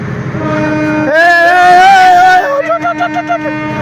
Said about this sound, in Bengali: আরে রে ট্রেন ছাড়ে দেবে, হরেন দিছে